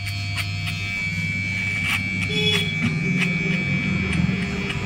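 An electric hair clipper running close up, a steady loud buzzing drone with a high whine, continuous throughout with slight shifts as it moves.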